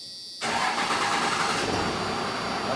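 A 1981 Ford engine with the hood open and rear wheels jacked up cranks and catches after a brief quiet moment, then settles into a loud, steady running roar that holds to the end.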